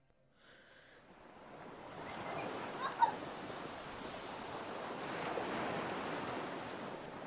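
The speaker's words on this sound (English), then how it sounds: "There's water everywhere." Soft rushing water ambience in a horror video game, a broad steady wash that swells gently and continues without break, fairly quiet with no talk over it.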